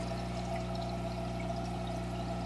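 Water from a planter filter outlet after a sock filter bag runs in a steady, continuous pour, a close, even trickle with no pauses and no voices.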